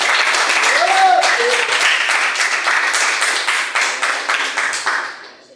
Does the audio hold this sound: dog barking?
no